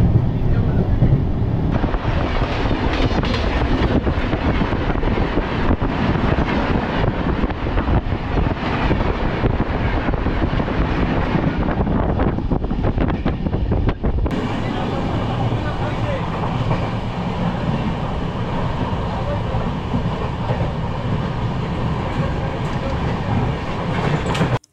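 The Saraighat Express runs along the tracks, a loud steady rumble with clickety-clack over the rails and some wind buffeting, while a voice talks over it.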